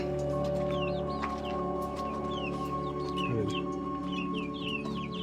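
Native nadan chickens in a coop, with clucks and chirpy calls repeating throughout over a steady background hum.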